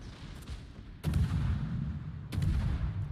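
Naval gunfire in World of Warships during a tier 10 Pan-European destroyer match: two heavy booming cannon volleys a second apart over a low, rumbling ocean-battle backdrop.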